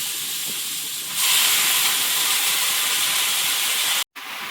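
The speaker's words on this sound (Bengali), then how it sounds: "কচুটা মুখ হলুদ দিয়ে ভেজে নিয়েছি এবার এর মধ্যে পালং শাকটা দিয়ে" Spinach tossed into a pan of taro already fried with turmeric gives a sudden loud, steady sizzle that jumps up after about a second and carries on hissing strongly, with a brief cutoff near the end.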